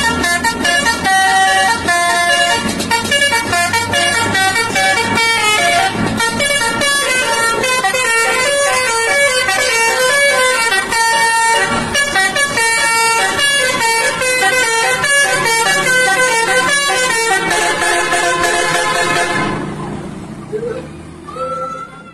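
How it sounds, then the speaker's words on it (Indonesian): A Murni Jaya bus sounds a loud musical multi-tone horn, a long continuous melodic honking that plays for about twenty seconds before cutting off as the bus passes. "kali ini ada bus Murni Jaya teman-teman"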